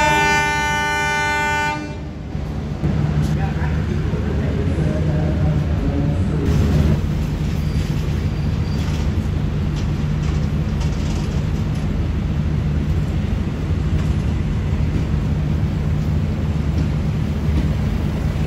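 A train horn sounds briefly at the start, then the Dharmawangsa economy-class passenger train rumbles steadily past with loud, continuous wheel and engine noise.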